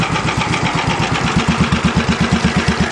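A modified lawn tractor engine idling with back pressure fitted, a steady, close and loud chugging pulse with an even rhythm and no voices.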